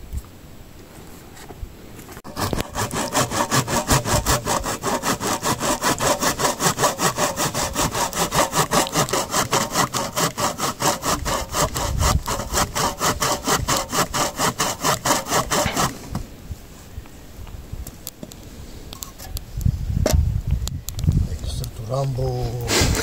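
A hand saw rasps through firewood in fast, even back-and-forth strokes for a long stretch, close and loud, then stops as a voice speaks nearby.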